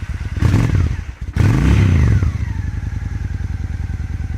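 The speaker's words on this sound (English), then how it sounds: "Start the bike up." A 2002 Honda Shadow ACE 750 (VT750) motorcycle with a 2-into-1 exhaust cold starts with a cranking clatter, catches, and settles into a steady, close, loud idle with an even pulsing beat.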